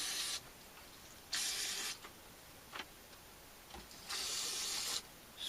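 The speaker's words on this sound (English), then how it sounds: "I sprayed some of this in there." CarQuest Quick Dry Electronic Cleaner aerosol sprays in several short hissing bursts of varying length, separated by quiet gaps with faint clicks, heard close up and alone.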